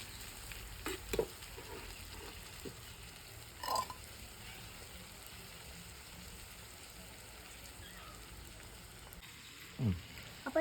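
Chicken curry simmering on a low flame, a quiet steady sizzle and bubbling hiss throughout, with a few soft stirring clinks and knocks now and then.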